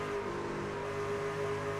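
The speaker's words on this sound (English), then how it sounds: "you hear the work that they have to do on the throttle here, trying to keep that truck underneath him" A race truck in a short-track Tuesday night truck series engine holds a steady, loud drone with strong harmonic tones, a continuous on-throttle roar throughout the short stretch with no talk.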